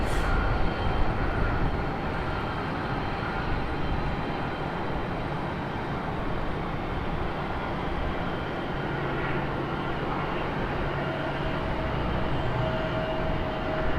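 A Republic Airways airliner taxis slowly at Raleigh-Durham airport, giving off a steady, broad jet engine rumble and whine at moderate distance that holds nearly unchanged throughout.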